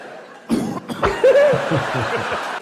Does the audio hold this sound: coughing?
yes